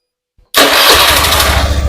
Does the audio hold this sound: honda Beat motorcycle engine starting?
yes